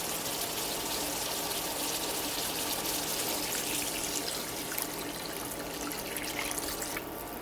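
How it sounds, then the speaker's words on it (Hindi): Water poured into a pot of chicken tarka nihari after the spices are fried, a faint continuous pouring hiss and trickle lasting several seconds, with no voices. "अब इसमें पानी शामिल करेंगे।"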